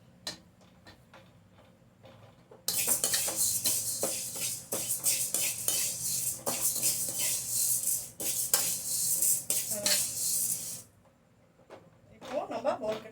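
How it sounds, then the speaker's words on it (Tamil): Lentils dry-frying in a pan for bisibela bath powder, a spoon scraping and clinking rapidly against the metal over a sizzling hiss, starting after a quiet stretch, pausing near the end and resuming briefly. "பருப்பு நல்லா ஃப்ரை ஆகிடுச்சு."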